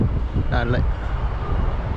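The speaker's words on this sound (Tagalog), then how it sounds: "malakas yung hangin" Strong wind buffets the microphone near a bridge and river channel, a continuous low roar and rumble, loud and close, with a brief voice speaking over it.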